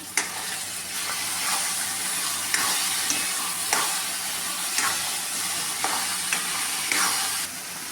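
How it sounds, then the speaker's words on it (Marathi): Chopped tomato sizzles and fries in a pan for egg biryani, with a steady close hiss and the periodic scrape of a spoon stirring through it. "बारीक केलेला टॉमॅटो टाकूया तोही व्यवस्थित परतून घेऊया"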